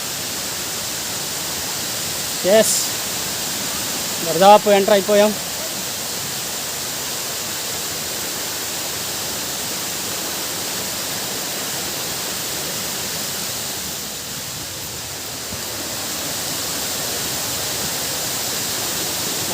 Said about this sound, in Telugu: ఆ వాటర్ ఫాల్ వెళ్తున్నటువంటి నీరు